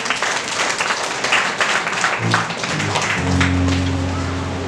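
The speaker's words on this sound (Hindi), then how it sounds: "जोर से परमेश्वर के लिए ताली बजाएं।" Church congregation clapping for God during a Hindi sermon, a loud dense burst of applause from many hands that fades into a low sustained musical tone.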